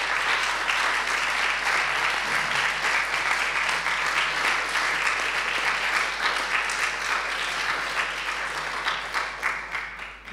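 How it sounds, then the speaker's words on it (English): Dense, sustained applause fills the hall at the translationale berlin 2023 festival opening evening, many hands clapping steadily before the sound thins and tapers off toward the end. "As they sign off, can you join me in applauding Jane Obuchi?"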